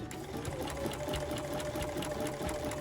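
A sewing machine satin-stitching the edge of an applique piece hums close by in a fast, even run of needle strokes that never pauses.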